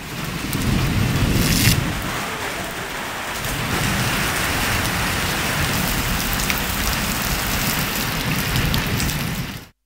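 Heavy rain pours steadily during a storm with strong winds in Islamabad, a dense, continuous hiss of drops hitting surfaces, loud and close, with gusty swells and no voices.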